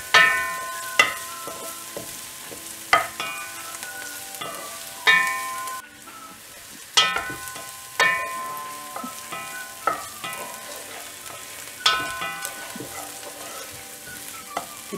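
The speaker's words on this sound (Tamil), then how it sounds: "பூண்டு இஞ்சி ஃப்ரை ஆயிட்டே இருக்கும்போது பச்சை மிளகாவும் இதல ஆட் பண்ணிடலாம்." Garlic, ginger and green chilies frying in a pan for vadacurry, a steady soft sizzle broken by a sharp scrape or stir roughly every second or two.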